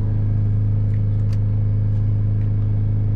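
A car's 1.6 petrol engine idles with a steady, loud, low rumble and constant hum, a few faint clicks over it.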